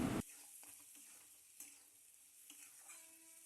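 Garam masala powder sprinkled over a masala base for prawn malai curry and stirred in a pan: a brief loud rustle at the start, then a quiet, faint sizzle with occasional soft scrapes.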